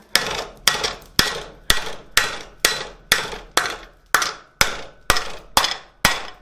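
Steel is struck with a hammer on an anvil while forging a coal shovel, eleven evenly spaced sharp ringing blows, each with a short decaying ring, loud and close with no talk.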